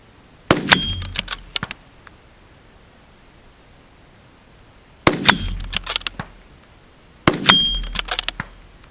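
Three loud, sharp gunshots each ring off a steel spinner target with a bright metallic clang and a short rattling decay. They come in uneven bursts separated by quiet gaps, and nobody speaks.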